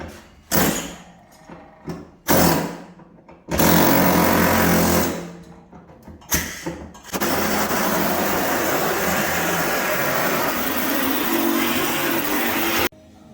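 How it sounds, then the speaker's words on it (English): A pneumatic air hammer rattles loudly against the body metal of a 2017 Toyota RAV4 under collision repair in several short bursts, then hammers continuously for several seconds. "as you saw with the air hammer"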